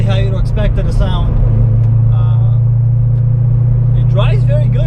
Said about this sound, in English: It definitely sounds like an American muscle car, exactly how you'd expect it to sound.